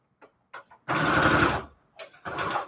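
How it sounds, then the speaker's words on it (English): A sewing machine stitching scrap paper runs in two bursts, a longer steady whirring run followed by a shorter one, preceded by a few faint clicks, close and fairly loud with no talk. "Actually, I'm gonna sew it twice."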